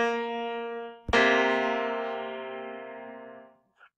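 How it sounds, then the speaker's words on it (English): Piano sounding a minor seventh interval: one sustained note, then a second note struck firmly that rings out with a long, slowly fading decay, close and alone. "And then here's the sound of the minor seventh."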